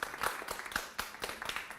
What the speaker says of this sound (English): Let's give them a big hand.